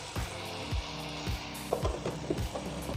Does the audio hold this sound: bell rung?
no